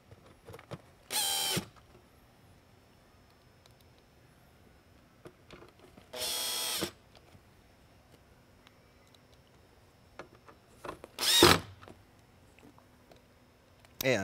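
Three short, even bursts of a powered driver whir, well spaced, as screws are run back into a Whelen 11-inch Century Series mini lightbar; faint handling ticks fill the quiet gaps between them.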